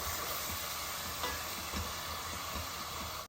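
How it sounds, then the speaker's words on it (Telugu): Onions for chicken fry sizzle steadily in hot oil, a loud, continuous close-up crackle with soft stirring thumps, ending abruptly. "ఉల్లిపాయలు మనవి మంచిగా వేగుతున్నాయి ఇంకా ఎర్రగా వేగాలన్నమాట"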